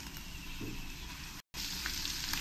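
Ground cumin, coriander and fennel powder with green chillies sizzle in hot oil in a pan for egg pulao, a steady close frying hiss with a brief dropout midway.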